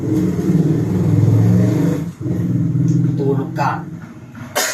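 Loud rumbling engine drone inside a moving truck, steady with brief dips and rattles; a voice is faintly present under the noise.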